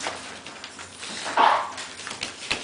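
Puppies whimper and yip in short, high bursts amid a steady background hiss, fairly close, with one louder cry partway through.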